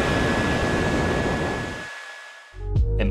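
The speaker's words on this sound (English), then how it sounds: "Whenever I'm doing anything a bit more intensive, the laptop sounds like it's about to take off." Laptop cooling fans running under heavy load, a loud, steady rushing whir with a thin tonal whine that winds down and cuts out near the end before other noises follow.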